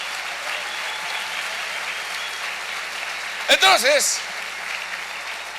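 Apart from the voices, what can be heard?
congregation applauding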